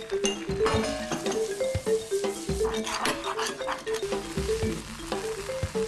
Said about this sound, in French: ajoutez la farine dans le beurre et mélangez